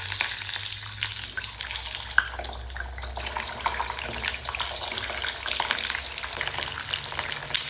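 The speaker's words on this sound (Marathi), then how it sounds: "तेल गरम झालेलं आहे, त्याच्यामध्ये आता आपण अंडे सोडूया।" Eggs dropped into hot oil in a kadhai sizzle and crackle continuously, a steady close frying hiss with one sharp pop and scattered spatters, no talking.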